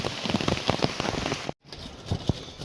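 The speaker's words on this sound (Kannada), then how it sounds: "ಮಳೆ ಮಾತ್ರ ನಿಲ್ತಾ ಇಲ್ಲ." Heavy rain pours steadily on a surface outdoors at Yana, a dense close wash of drops with a brief dropout midway before the downpour resumes.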